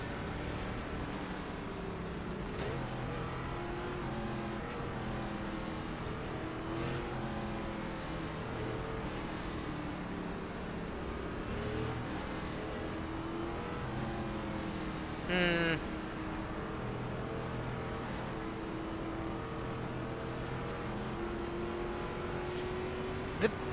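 ARCA Menards Series race cars at USA International Speedway, a steady continuous engine drone throughout with a brief louder burst midway, heard from inside or near the car rather than as distinct pass-bys.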